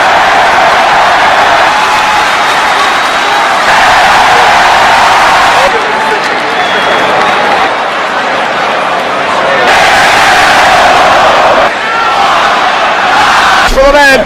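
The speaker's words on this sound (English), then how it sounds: "An ovation from this capacity crowd" A capacity crowd at a Royal Rumble wrestling event roars with a sustained ovation and cheering, loud and continuous throughout with a commentator talking over it.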